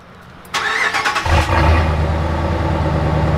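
A Ram 1500 pickup's Hemi V8 fires up with a sharp starter crank, then settles into a loud, deep, steady rumble close by, with no talking.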